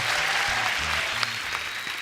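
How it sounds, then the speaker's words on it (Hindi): Studio audience at a celebrity talk show bursts into continuous loud applause, a dense steady wash of clapping throughout with faint music underneath. "जोरदार तालियां।"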